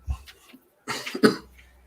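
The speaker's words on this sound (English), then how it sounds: "Hey, sorry I'm coughing." A couple of close coughs, a quick short one then a stronger burst, with some breathy throat noise around them.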